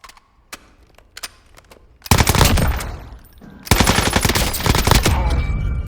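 Rapid automatic gunfire from a weapon in Call of Duty: Warzone, with a few sparse single shots first, then two loud sustained bursts of fire that ring out close and dense.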